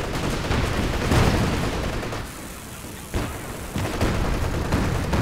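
Infantry support gun shelling a sector in Company of Heroes, a dense continuous roar of game gunfire and blasts, loud and sustained with a brief dip midway.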